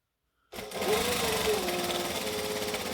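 A sewing machine starts after half a second of silence and stitches shorts continuously, a steady mechanical whir with a motor tone, close and even, no talking.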